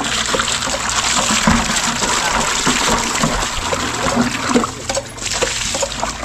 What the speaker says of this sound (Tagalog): Hugasan natin yung banga